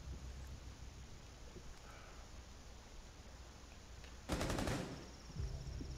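Gunfire in the tactical shooter game Rainbow Six Siege on a skyscraper map: a low ongoing rumble of background noise, then a loud burst of rapid shots around the four-second mark, followed by quieter low thumps.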